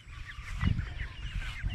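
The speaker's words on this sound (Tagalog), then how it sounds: "Yan yung mga pato natin." Several ducks quack and honk in a noisy cluster nearby, overlapping calls over a rough outdoor background, with no one speaking.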